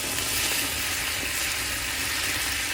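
A steak sears in a hot pan with bourbon added, giving a steady, loud, unbroken sizzle and crackle throughout, with no voices.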